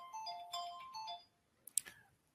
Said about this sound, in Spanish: Perdonad que me han llamado al teléfono.